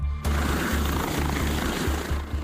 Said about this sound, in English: They land the chopper, but there's nobody in sight.